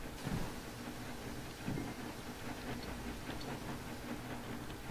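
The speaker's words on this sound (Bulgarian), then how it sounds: "Ще пробвам да се кача на влака." A train rolls along steadily in a Western cowboy video game, a dense continuous rumble with faint rhythmic clatter and two brief heavier thumps near the start, heard alone without talk.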